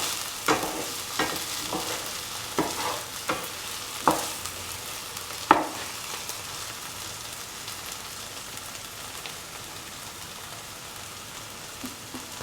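An egg, tomato and potato mixture sizzles steadily in a frying pan while a utensil scrapes and knocks against the pan in irregular stirring strokes, with no talking.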